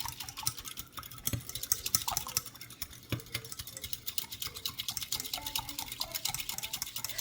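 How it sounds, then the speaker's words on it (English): A whisk beats banana pudding ingredients in a bowl, giving a fast, continuous run of light clinking and tapping strokes against the side, close up, with a few sharper knocks early on and no voices. "I'm going to break these up with this same whisk and I'm going to mix this in"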